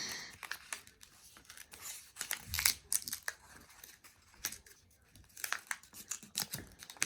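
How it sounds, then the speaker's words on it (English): Paper is folded into an origami crane, giving close, soft crinkling and creasing rustles in irregular bursts with brief sharper crackles and quiet gaps. "Take the front flap on the left and fold it in."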